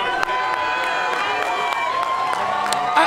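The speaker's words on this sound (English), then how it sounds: "I'm standing up, applauding." Ringside crowd at a boxing match between Shelito Vincent and Jackie Trivilino applauding and cheering in a sustained roar, with a commentator talking over the clapping and a few louder bursts breaking through.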